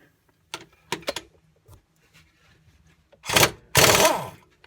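A 17 mm socket wrench turns a gearbox bolt on a 1988 Porsche 911: a few scattered knocks and clicks, then two loud, harsh ratcheting bursts close up, with no talking.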